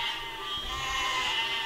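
Sheep bleat in the video game Besiege, a wavering animal call rising over a steady ambient game background, with no talking.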